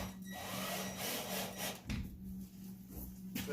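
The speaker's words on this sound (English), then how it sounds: "I'll go ahead and screw this screw through" Screw driven through a wood panel for an 8 ft reptile cage build, producing a soft, steady grinding and rubbing of wood with a brief change midway, faint and close, with no talk.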